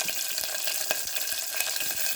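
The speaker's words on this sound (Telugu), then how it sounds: "తాలింపు చేశాను తాలింపులో పచ్చిమిరపకాయ ముక్కలు" Green chili pieces frying in hot oil as a tempering for tomato rasam, a continuous crackling sizzle with small pops throughout, moderately faint and close, with no voices.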